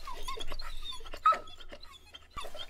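Dogs pant, whimper and make small yips close by in a quiet indoor space, a busy stream of soft breathy sounds with a sharper yelp midway.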